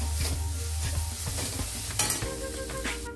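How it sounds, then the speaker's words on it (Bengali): Ground coriander leaf, garlic and ginger paste being sautéed in a pan for dum aloo, with rhythmic spatula scrapes over a bubbling sizzle and a brief sharp hiss burst midway. "দিয়ে এটাও ভালো করে মিশিয়ে নেব, একদম ভালো করে কষিয়ে নেব।"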